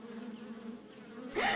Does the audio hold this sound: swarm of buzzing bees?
yes